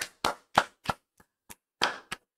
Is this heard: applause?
yes